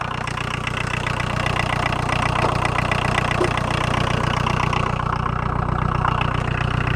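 A VW 1.6-litre diesel engine in a caravan that sat unused for seven years, running on a drive with a steady, rough, even drone and a faint knocking texture, close and continuous without speech.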